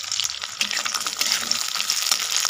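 Almonds and cashews frying in hot oil for lemon chicken masala, a close, bright, continuous sizzle with light crackles and faint stirring, no voices.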